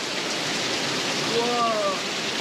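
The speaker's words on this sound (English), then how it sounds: "It's quite beautiful though to sit here and listen to the rain" Rain falls steadily in the Maldives beside the Indian Ocean, a dense even hiss close by that never lets up, with a few faint chirps briefly over it.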